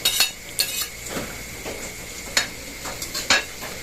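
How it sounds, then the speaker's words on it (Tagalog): Garlic and onion sauté in a pan for adobong kangkong with tofu, a soft sizzle under sharp metal utensil scrapes and clinks that recur every second or so, close and fairly loud. "bali tayo po magigisa na ng bawang at sibuyas"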